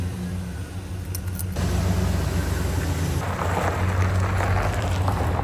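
A lifted GMC Savana van with a 3-inch lift kit starting off on a test drive, its engine rumble swelling from idle into a steady nearby drone after a short jangle of keys.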